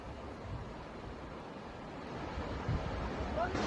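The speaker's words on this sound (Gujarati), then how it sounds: "અંબિકા નદી ઉપરના નાના ઝરણા સહિત ગીરા ધોધ સક્રિય થયો છે" The Gira waterfall on the Ambika River in Dang district pours in a faint, steady, broad roar heard from a distance, its wash rising slightly toward the end with some wind buffeting.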